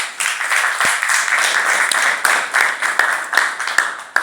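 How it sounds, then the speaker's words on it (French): Audience applause at a panel on cocoa regulation and labour rights in Côte d'Ivoire, steady dense clapping for about four seconds with a few sharper individual claps standing out, fairly close and loud. "Merci de l'applaudir."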